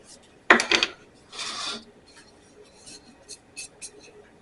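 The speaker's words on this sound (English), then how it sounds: "We're going to mix all the dry ingredients together" Dry ingredients with garlic powder and pepper, for squash fritters, stirred in a bowl with a sharp scrape, a longer rasping stir and several light, quick taps and scratches, close and fairly quiet.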